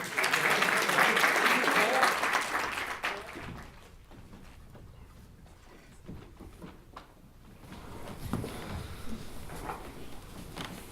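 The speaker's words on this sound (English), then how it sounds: "we can give Taylor one more hand of applause." Applause from a crowd at a community forum fills the first few seconds, then fades into quieter room noise with some clattering and a few voices.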